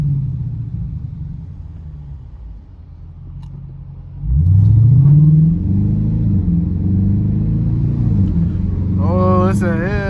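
A Dodge Challenger R/T engine revs up sharply at a car wash cruise, a loud rising rumble with a whine that then holds steady, while people talk over it nearby.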